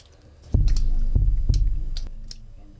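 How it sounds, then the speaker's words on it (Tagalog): Underground explosive blasting in a gold mine worked by child miners: several deep, muffled booms and thuds land in irregular succession, heavy and rumbling at close range, with faint clicks between them. "maririnig ang mga pampasabog na ginagamit ng ilang minero"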